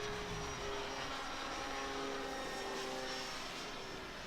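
E-flite Turbo Timber Evolution RC airplane flying overhead, its electric motor and propeller giving a faint, steady whine that swells slightly as it passes at a distance.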